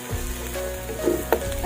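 Chili is stirred into cabbage frying in a pan, giving a brief, close and continuous sizzle with a couple of soft stirring scrapes.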